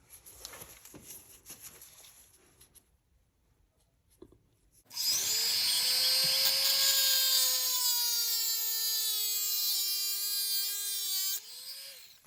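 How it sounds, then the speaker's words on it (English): After some soft handling noises, a power drill whines steadily into wood, drilling a hole from the back side for several seconds, its pitch dipping slightly as it finishes. "So I'm drilling this hole here from the back side"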